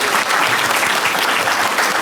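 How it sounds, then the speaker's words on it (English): Steady, dense clapping from a large audience of around a hundred people at a workplace talk, filling the whole moment loudly and evenly without pause. "I appreciate the round of applause for him"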